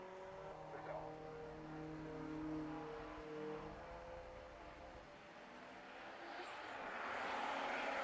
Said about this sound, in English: there goes 218, which is the BMW 135i of Neil Robson from BIB Performance